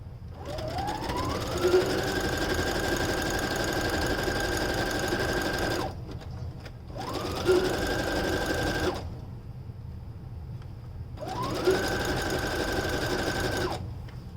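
A sewing machine stitches a fabric band around a knitted beard sock in three long runs, each starting with a rising whir that settles into a steady hum, with short pauses between, close and alone.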